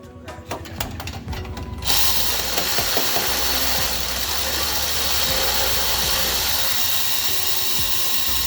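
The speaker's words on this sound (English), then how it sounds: "then we go with a 15 wobble and electric ratchet." An electric ratchet with a 15 mm wobble socket loosening transmission bolts on a 2016 GMC Sierra with a 6L80 gearbox, a steady loud buzzing whir after a clicking start, running close up and continuously.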